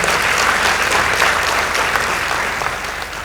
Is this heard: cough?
no